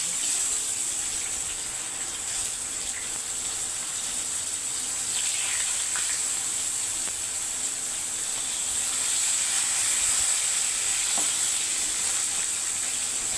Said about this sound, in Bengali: খুব লম্বা লম্বা করে কাটা আছে ভেজে নেব একটুখানি সামান্য ভেজে নিই